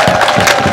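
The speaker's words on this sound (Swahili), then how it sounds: "Naomba tupigie makofi sana" An audience at a traditional elders' gathering claps, with dense, loud, even applause throughout a short burst.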